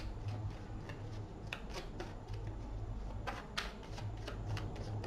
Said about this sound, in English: Off the top of the deck, 3 more shuffles.